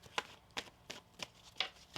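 A deck of tarot cards is shuffled in a series of crisp riffling bursts, about six evenly spaced flicks and snaps close to the microphone, with no voices.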